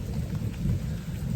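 Steady rain and rumbling thunder from a storm outside on a rainy Carolina evening, a continuous low roar with a fine patter of drops, heard alone with no voices.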